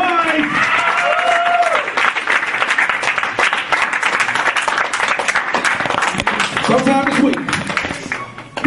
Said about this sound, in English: Come on, start clapping.